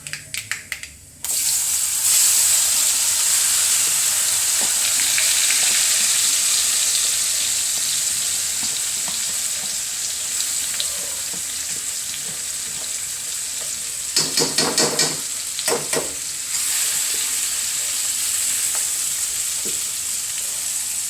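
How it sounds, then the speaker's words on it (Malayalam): Mustard seeds pop and sizzle in hot oil while tempering for lemon pickle, a loud, continuous frying hiss with scattered crackles and a brief burst of sharper popping partway through. "കടുക് പൊട്ടണം കേട്ടോ"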